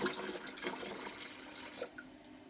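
A litre of tepid water is poured into an apple and grape juice wine mix, a steady faint splashing and trickling of liquid with no voices.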